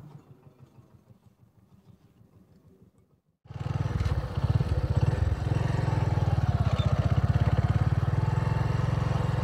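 A motorcycle engine starts up and settles into a loud, steady running rumble close by, after a few seconds of quieter idling.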